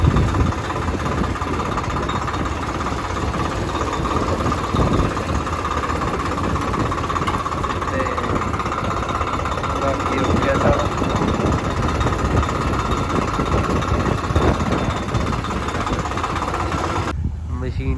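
A wheat harvesting machine working a field at night, its engine running in a loud, steady drone with mechanical rattle throughout, while someone talks over it; the sound cuts off abruptly near the end.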